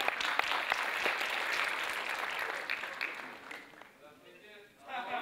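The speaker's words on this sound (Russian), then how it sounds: "Под ваши аплодисменты, друзья." A studio audience at a KVN comedy show applauds loudly and steadily, then fades toward the end, giving way to a brief burst and a voice.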